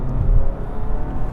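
A 2024 Mazda 3 Sport GT with a six-speed manual pulls in second gear, its engine a steady low, close rumble with a faint whir and no voices over it.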